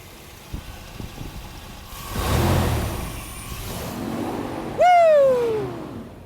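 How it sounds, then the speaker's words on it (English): Big Red, a truck with HEI ignition and throttle-body injection, sits in a shop with its engine idling low before a sudden loud rev flares up near the end and slowly falls away. "Let's see if it'll rev."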